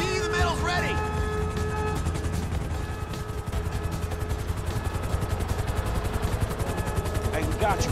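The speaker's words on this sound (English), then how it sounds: "Helicopter inbound." A helicopter arrives during a heist mission in the video game GTA V, a steady rotor chop under heavy game noise, gunfire-like bursts and a continuous drone, with people talking over it.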